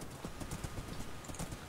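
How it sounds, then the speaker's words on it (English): Horse hooves clip-clop steadily in the Minecraft video game, a quick even rhythm of close, moderately loud hoofbeats. "I'm on a horse."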